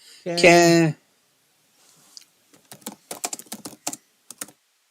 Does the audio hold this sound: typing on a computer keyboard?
yes